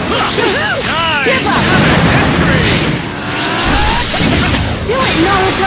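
A special attack bomb explodes in a Naruto online fighting game, with booming blasts and whooshing effects layered under an energetic shouting voice, loud and dense throughout.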